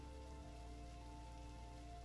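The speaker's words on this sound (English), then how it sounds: "Just try and enjoy the rain." Steady rain falling in the video game Necrobarista, a soft, even patter on surfaces throughout, with a low constant hum underneath and no voices.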